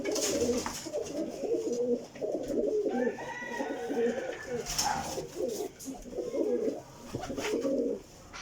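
Sialkoti flying pigeons coo repeatedly in soft, low throaty phrases, close by, while someone talks over them almost continuously.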